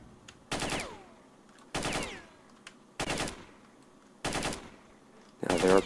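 Bandits fire automatic guns in STALKER, five loud, separate bursts of rapid shots spaced about a second apart, each ending in a short ringing tail, with quiet gaps between.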